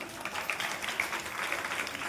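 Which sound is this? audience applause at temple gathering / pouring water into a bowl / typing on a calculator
audience applause at temple gathering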